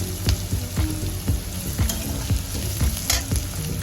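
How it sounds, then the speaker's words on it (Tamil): Chopped onions sautéing in a pan for a lady's finger (okra) thokku, with a steady close sizzle and repeated scraping stir strokes throughout. "வெங்காயத்தை நல்லா வதக்கிக்கலாம்."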